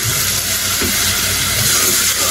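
Water added to spices frying in oil in a pan, a loud, continuous bright hiss and sizzle filling the whole moment without pause.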